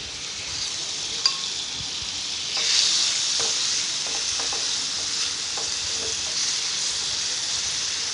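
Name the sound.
marinated chicken sizzling in cooking oil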